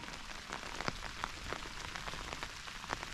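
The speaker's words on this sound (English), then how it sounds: "The rain's been picking up actually." Steady rain patters on a cloudy Appalachian Trail mountain path in freezing weather, a dense hiss of drops with scattered sharper taps close by, continuous and fairly soft throughout.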